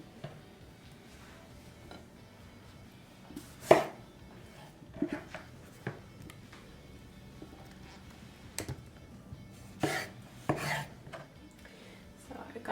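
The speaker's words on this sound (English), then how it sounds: "Cut up the tomatoes and we're gonna fry sliced tomatoes with the meat." Knife chopping tomatoes on a cutting board while preparing Persian kofteh meatballs, with scattered, irregular close thuds and taps, a few sharper loud strikes standing out against a quiet kitchen background.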